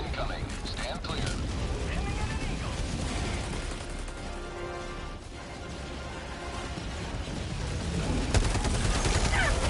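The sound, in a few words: orbital barrage strike in Helldivers 2 video game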